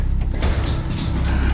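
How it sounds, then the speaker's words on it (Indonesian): A bus rolls past on the road, a loud, close rumble with deep engine drone and broadband whoosh that holds steady throughout, no voices. "tuh bus kita barusan lewat"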